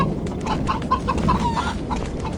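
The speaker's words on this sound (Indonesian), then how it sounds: "Wih ada ayam teman-teman." A chicken clucks in a forest in a series of short, close calls over a steady, noisy background.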